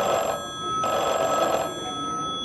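A telephone rings during a one-act stage play, giving two clear bursts of steady bell-like ringing with a short gap between them and a quieter tail after, and no voices.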